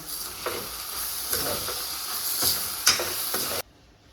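Banana flower stir-fry with grated coconut and toor dal being stirred in a pan, giving a steady soft sizzle broken by spoon scrapes, close and alone, before cutting off sharply near the end.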